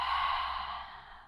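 A steady exhalation during a seated yoga twist, one long breathy out-breath that is close and soft, fading gradually toward the end with no talking.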